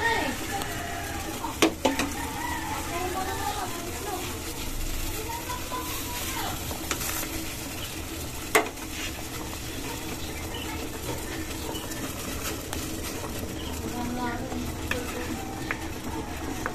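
Milkfish is added to a simmering sinigang sour broth with guava, a steady sizzling bubbling bed with a few clinks and a soft splash, fairly loud and continuous, and a voice talks briefly over it.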